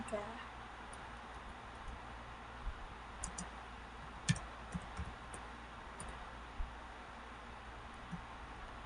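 Sparse, faint clicks of a computer keyboard being typed on, scattered irregular taps over a steady low hum and background hiss.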